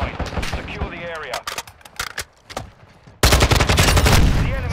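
Shotgun fire in a fast online hardpoint shooter match, a run of sharp loud blasts and bursts of gunfire up close, ending in a dense sustained barrage of shots.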